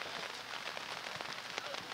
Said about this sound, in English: the rain is starting to come down a little harder now